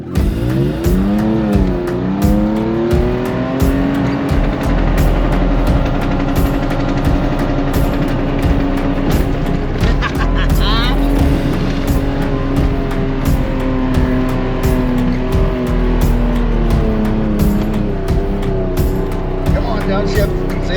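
A vehicle bashes across sand dunes, its engine roaring and revving through repeated downshifts with rising and falling pitch, loud and close, while people talk and cheer excitedly over it.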